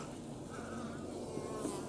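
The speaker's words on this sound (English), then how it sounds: "just a whole lot of bees." A whole lot of bees buzzing around an open top bar hive in a backyard, a steady, dense swarm drone close to the microphone that holds evenly throughout.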